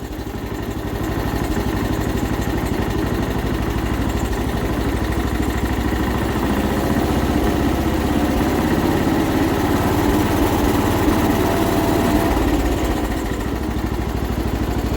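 A John Deere 210 lawn tractor engine idles steadily, a loud continuous mid-pitched drone with a slight vibration that holds nearly unchanged throughout, with no voices.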